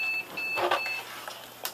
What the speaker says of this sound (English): a little beeping for some weird reason